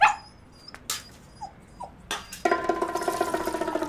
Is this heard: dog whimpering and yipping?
yes